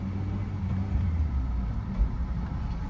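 A car engine hums steadily in second gear during a driving lesson, a continuous low rumble with slight swells, close and moderately loud, with no talking.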